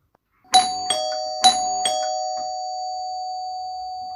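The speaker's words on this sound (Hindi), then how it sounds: "डोरबेल की आवाज आती है।" A doorbell sounding two clear ding-dong chimes in quick succession, near and crisp, the last tone ringing out and slowly fading in an otherwise quiet room.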